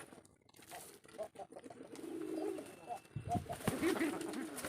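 Desi pigeons in a pigeon farm give soft, low cooing calls in short repeated bursts, fairly close but quiet, with some rustling and a voice briefly in the background.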